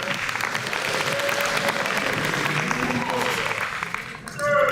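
Crowd applause at an 8th grade promotion ceremony for Hayes Middle graduates, a steady dense wash of clapping sustained throughout, with voices mixed in and a brief swell near the end.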